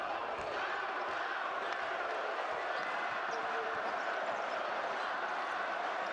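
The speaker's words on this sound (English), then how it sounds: "So the crowd noise. It's a fever pitch here." A packed basketball arena crowd at a Georgia versus Ukraine FIBA World Cup 2023 European qualifier roars in a dense, continuous wash of noise, with a commentator talking over it.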